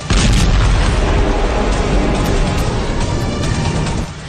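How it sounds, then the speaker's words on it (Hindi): A Russian military fuel train in Zaporizhzhia explodes after a drone strike, a loud continuous roaring boom with crackling bursts that rumbles on for several seconds without talk. "ट्रेन धमाके के साथ लपटों में घिर गई"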